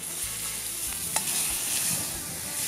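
Meat sizzles in butter in a frying pan as it is turned, giving a steady crackling hiss with a soft clink partway through and no voices.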